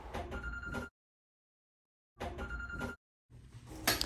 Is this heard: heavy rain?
no